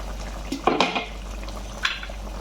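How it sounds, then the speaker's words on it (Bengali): A utensil scrapes and knocks against a cooking pot while jackfruit seed curry is stirred, giving a few short metallic clinks and scrapes over a quiet, steady background hum. "এবার ভালো করে আমি নাড়বো রান্না করছি"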